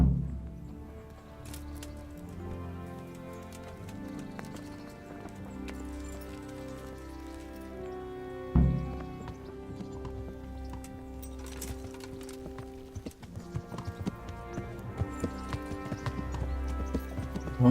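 Horse hooves clip-clopping at a steady rhythm in the medieval game Kingdom Come: Deliverance, moderately close, under soft background music with a brief louder thump midway.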